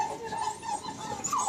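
A dog whimpers and whines in thin, wavering tones during a reunion with its owner, pushing past someone toward a door; the sound is steady and moderately close over soft background noise.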